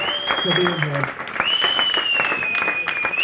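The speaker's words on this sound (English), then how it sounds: "Give yourselves a round of applause, folks, for being here." Comedy club audience applauding and cheering loudly and steadily throughout, with a whistle-like tone running across the top and a voice speaking briefly near the start.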